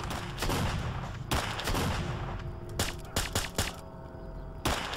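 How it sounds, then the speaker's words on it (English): Pistol shots in the video game STALKER: Clear Sky: a run of sharp, loud gunshot cracks, several fired in quick succession with short gaps and echoing tails, standing alone without speech. "Let's try the pistol for a bit, I guess."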